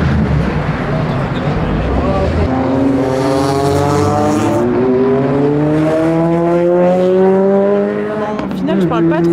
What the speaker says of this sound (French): avec les voitures qui passent sur le circuit derrière